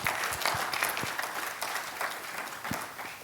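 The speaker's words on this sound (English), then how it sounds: "So big round of applause" An audience applauds staff at a real estate tribunal training session, sustained clapping from a room of people filling the whole stretch with a few sharper individual claps standing out.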